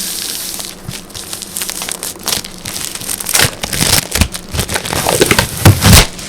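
Plastic wrap is peeled off a Keychron Q2 keyboard box, giving loud, close crinkling and crackling with rustling bursts throughout and no talking.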